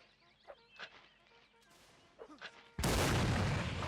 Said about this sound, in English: And away goes the cannon.